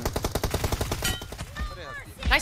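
Rapid automatic gunfire in a shooter video game's team deathmatch, a fast rattling burst of close shots that gives way to talking voices and scattered game sounds.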